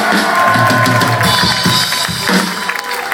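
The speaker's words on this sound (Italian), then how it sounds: "fai un grosso applauso!" A concert crowd at a live rock show in a packed club claps and cheers loudly for the band, a dense, continuous wash of applause with whoops rising above it.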